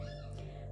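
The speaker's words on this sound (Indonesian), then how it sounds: "Maaf ya kalau kedengaran berisik suara bayi kucing." Newborn kittens mewing indoors while their mother gives birth; a brief, faint high mew rises over a steady low household hum.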